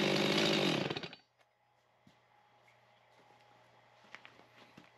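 A chainsaw engine roars loudly for about a second, then cuts off, leaving a quiet low idle hum with a few faint clicks and knocks.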